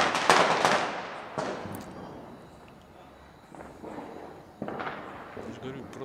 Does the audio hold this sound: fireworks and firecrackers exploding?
yes